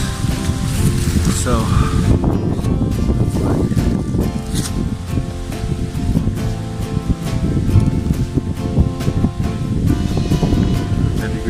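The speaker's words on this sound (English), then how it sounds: "The wind is blowing." Wind blowing on a mountain trail on the Appalachian Trail at Springer Mountain: a steady, loud rushing roar runs under everything, with a brief word spoken early on.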